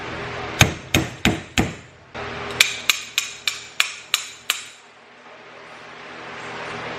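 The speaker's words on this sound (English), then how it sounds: "you can take a socket and go around the washer and tap it on until it locks on" A socket is tapped around a washer to seat it on the input shaft during assembly of a Honda Grom engine with a Takegawa 5-speed gearbox. There are sharp, close metallic knocks, four in a quick row, a short pause, then about seven more in a steady rhythm.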